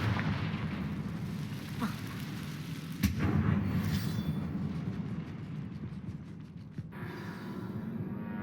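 A Confringo blast spell bursts with a sharp crack in Hogwarts Legacy, followed by a low rumbling roar that slowly fades, with no talk over it.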